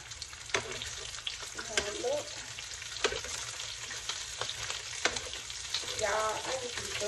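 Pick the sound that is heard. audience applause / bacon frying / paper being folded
bacon frying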